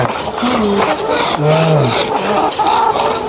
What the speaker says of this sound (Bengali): সাব্বির মুরগি এগুলো হাঁচড়া দিলে তারপর খাচ্ছে কে